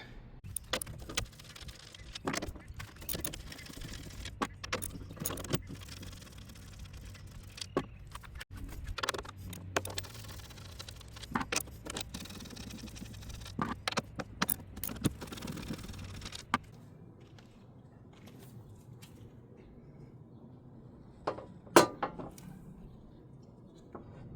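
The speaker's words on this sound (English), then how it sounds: "then tighten up the nuts. You're going to need a 9/16 or 14 millimeter deep socket ratchet" Nuts being tightened with a 14 mm deep socket ratchet while installing a strut bar brace on a Kia Sportage, with irregular metallic clicks and clanks, fairly close, followed by a quieter stretch with a few isolated knocks.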